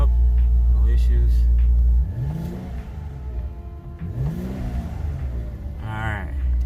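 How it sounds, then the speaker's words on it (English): Infiniti Q50 engine running after a fresh start, a steady close idle rumble with several rising and falling revs, and a voice speaking over it. "Car started up, no issues."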